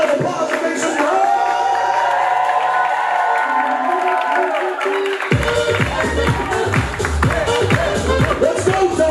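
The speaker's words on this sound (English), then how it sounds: "give a big round of applause and make some noise" A lively crowd on a wedding reception dance floor cheers and claps over loud thumping dance music and chatter, the noise dense and continuous throughout.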